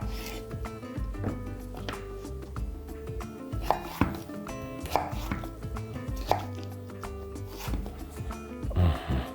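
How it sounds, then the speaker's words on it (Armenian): Knife chopping cucumber into small cubes on a board, with rapid, steady taps and a few sharper knocks, heard close with no talking. "Մյուսը մանր կտրատում եւ պահում ենք։ Մանր խորանարդիկներ ենք կտրատում։"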